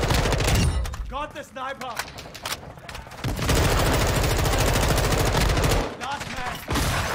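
Continuous rapid rifle fire from a Lockwood in Modern Warfare 2, loud and close, in long bursts with brief pauses and overlapping game effects, while a player talks over it.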